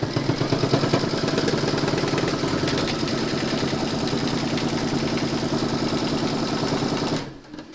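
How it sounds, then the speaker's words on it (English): An embroidery machine stitches a four-leaf clover coaster design in the hoop, a loud close mechanical whir with a fast regular needle rhythm running steadily for about seven seconds before stopping abruptly. "you're going to stitch round number 9, and that's going to secure the backing fabric in place"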